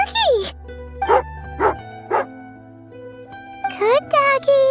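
Tugarin, a dog in Genshin Impact, gives several sharp, close barks and yips over jerky, spaced about half a second apart. A pause follows, then a cluster of quicker whimpering yaps, set against soft background music.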